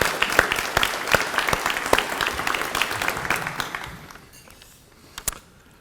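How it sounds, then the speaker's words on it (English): An audience at a Veterans Day luncheon claps for a string ensemble, with a dense burst of applause that thins out and fades to a few last claps. "Let's give them a round of applause."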